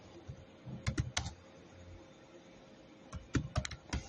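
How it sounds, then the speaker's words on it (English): Quick bursts of clicky computer keyboard keystrokes come in two short clusters with a pause between them, close and fairly quiet. "Let me just type beauty quote."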